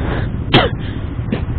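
A single cough from a person on a nighttime motorcycle road trip in the cold without a jacket or gloves, a brief loud burst with a fainter follow-up, over steady road and engine rumble.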